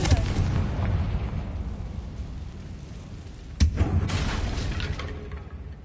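A Confringo spell explosion in Hogwarts Legacy lands with one sharp booming blast partway through, then fading crackling rumble over a continuous low game background.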